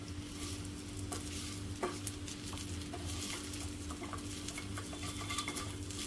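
Fenugreek muthiya are stirred gently in hot tempering in a pan, a soft steady sizzle with light scraping clicks of a utensil against metal, heard close and alone.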